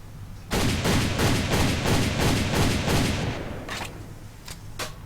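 Rapid bursts of gunfire ring out from the Happy Snow weapon skin in a shooter game, a loud, steady run of evenly spaced shots followed by a few separate single shots, with no talking.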